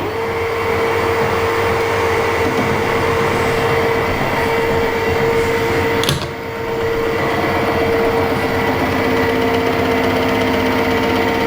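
An HS260 milling machine runs a finishing cut with a 22mm face mill on an INT30 adaptor, giving a loud, steady mechanical drone with a constant whine that continues without a break.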